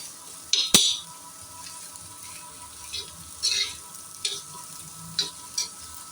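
Onions sauté in oil until golden for a homemade masala, giving a low continuous sizzle with a handful of bright clinks as a spatula strikes the pan, close and fairly quiet.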